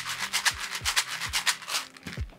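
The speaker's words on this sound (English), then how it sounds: "This one popcorn kernels." A homemade paper shaker filled with popcorn kernels is shaken close up in a steady rhythm, giving bright, gritty rattling swishes, each ending in a dull papery knock, roughly eight strokes with no voices.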